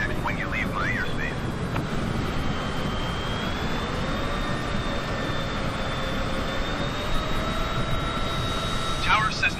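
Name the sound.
Cessna aircraft engine in video game Microsoft Flight Simulator 2020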